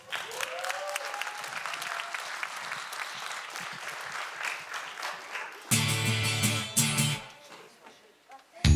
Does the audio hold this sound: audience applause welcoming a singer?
yes